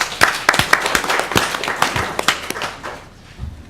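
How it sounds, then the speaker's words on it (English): A meeting audience gives a short round of hand claps in thanks to the CBC, scattered individual claps in a roomful of people that thin out and trail off toward the end. "I'd like to give a hand clap to the CBC for that"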